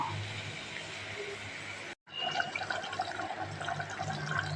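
Water pours into a thick tomato and onion gravy with cauliflower and peanuts in a pan, a close, gurgling splash that cuts off briefly partway through and then resumes more loudly and unevenly.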